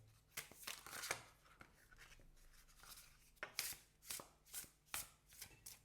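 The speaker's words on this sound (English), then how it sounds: "And it is wonderful to shuffle." Tarot cards being shuffled up close, quiet papery riffles and snaps in an uneven rhythm, then a run of regular bursts.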